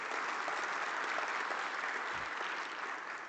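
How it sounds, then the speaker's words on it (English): Applause from a symposium audience for a panel, a steady, even wash of clapping that fades slightly at the end; it sounds somewhat distant and quiet. "Can I ask that we give this panel another round of applause for the work that they've done?"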